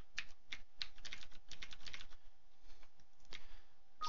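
Quiet computer keyboard typing in quick bursts of soft clicks with a short pause midway, heard alone and fairly faint.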